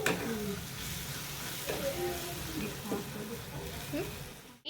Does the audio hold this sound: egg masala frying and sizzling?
yes